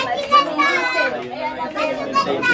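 Children play and chatter at close range in a barangay neighbourhood street, with lively overlapping voices and shouts throughout.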